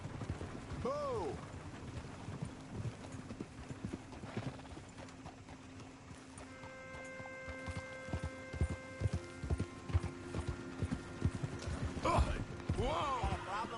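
Horse hooves clip-clopping in Red Dead Redemption 2, with a couple of whinnies standing out near the start and end, set against rainy ambient game sound and some character dialogue.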